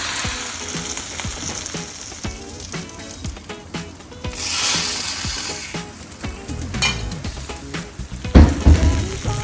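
A patty melt with fried onions, mushroom and Swiss cheese on buttered bread sizzles and fries steadily on a buttered griddle, with close scraping and clattering of a spatula throughout and a louder burst of sizzle near the end.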